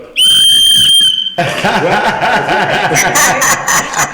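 A loud, clear whistled tone is held for about a second on a live radio stream, then gives way to a noisy, breathy stretch with rhythmic pulsing sounds.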